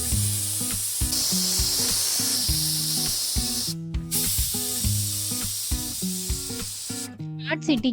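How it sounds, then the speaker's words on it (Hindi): A pressure cooker with vegetables for pav bhaji venting steam, a loud sustained hiss with brief breaks, alongside rhythmic tonal background music. "अब ढक्कन लगाकर हाई फ्लेम पर 5 सीटी लगने दी।"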